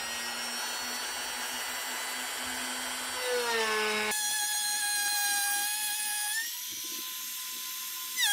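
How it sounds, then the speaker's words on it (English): A router cuts a wooden blank for a military rifle handguard with stepped bits. It gives a loud, high whine that shifts pitch as it bites into the wood and changes load, heard alone. "I'll start routing."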